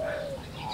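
A single soft zebra dove coo in an aviary, brief and close, ending quickly.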